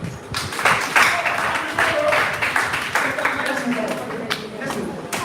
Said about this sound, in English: Clap for Mr. Man.